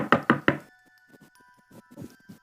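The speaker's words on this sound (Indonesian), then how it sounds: "pembicaraannya dihentikan oleh suara ketukan pintu di depan rumahnya" Three sharp, loud knocks rap on the front door of a house in quick succession, followed by faint scattered thuds and a quiet sustained tone in the background.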